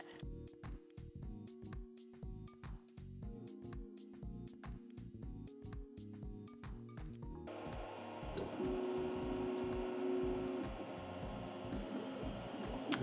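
A 3D printer runs while printing, its stepper motors whirring in quick pulsed tones close by, shifting midway to a steadier, busier mechanical hum with a brief high whine.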